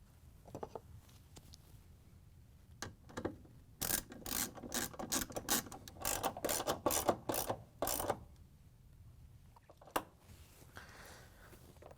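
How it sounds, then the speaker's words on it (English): A 3/8 inch socket ratchet tightening bolts on an appliance motor shield bumper kit, with rapid close clicking pawl runs in bursts, some lighter rubbing and tool handling between them, quiet overall. "we can use the 3/8" socket with the ratchet to get the upper bolt started"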